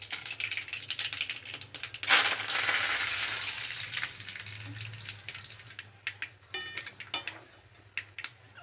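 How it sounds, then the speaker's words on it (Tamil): Spices, dried chillies, garlic, cumin and dried fish crackle and sizzle in hot oil, a dense spitting burst early on settling into scattered sharp pops. "எண்ணெய் ஊற்றிட்டேன், தாளிக்கிறேன்."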